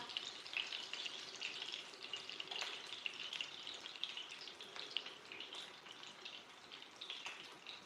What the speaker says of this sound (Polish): słychać już, że zaczęły skwierczeć